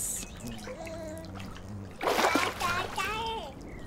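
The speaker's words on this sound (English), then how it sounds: "That's the water splashing." Water splashes and splatters in a short burst with trickling, set among soft chirpy sounds and background tones, fairly close and moderately loud.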